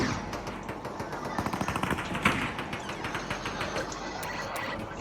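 Rapid automatic gunfire from a weapon in a video game, a steady rattling stream of shots mixed with other game noise, fairly loud and continuous throughout without speech.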